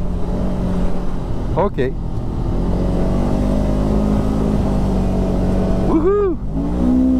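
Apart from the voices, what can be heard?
Segway Fugleman UT10 utility vehicle accelerating on a speed run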